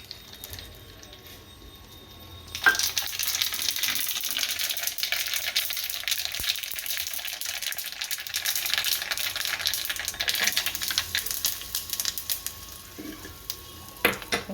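Curry leaves and sesame seeds hit hot oil for rava handvo, a sudden loud crackling sizzle that bursts in after a quiet start and keeps spitting and popping steadily to the end.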